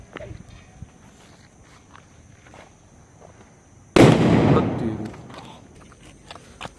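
A firecracker bursts during Diwali night celebrations with a sudden loud crackling blast that decays over about a second, after quiet footsteps and scattered small pops, and faint voices can be heard in the background.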